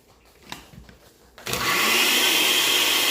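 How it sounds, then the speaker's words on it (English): A blender switches on abruptly after a few quiet handling clicks, then whirs loudly and steadily as it purees Jamaican jerk seasoning loosened with olive oil. "I'm gonna blend up my seasoning, but I'm gonna pour some olive oil in there as to free up the blender"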